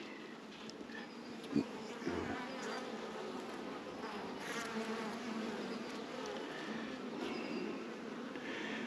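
Honeybees buzz steadily on a brood frame in an open beehive, a close, continuous hum with a few brief knocks and handling sounds.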